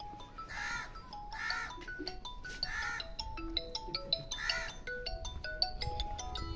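A phone ringtone plays a bright, repeating electronic melody of quick stepped tones, steady and fairly quiet, with no voices over it.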